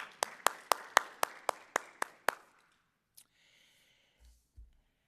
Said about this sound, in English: A round of applause from me to them.